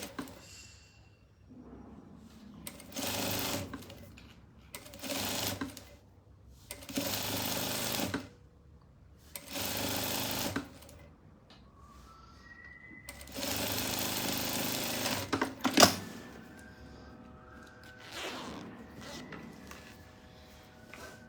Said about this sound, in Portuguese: Vou fazer a primeira costura.